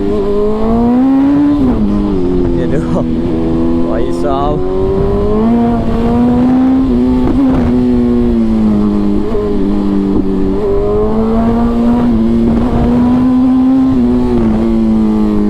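A BMW S1000RR sport motorcycle accelerates hard in low gear, its engine a loud, sustained rising and falling howl close by as revs climb and shift, with someone talking over it.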